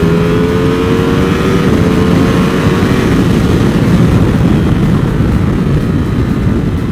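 Ducati Monster 1200 motorcycle engine pulling hard under acceleration, a loud, steady, close roar that holds throughout with no talking.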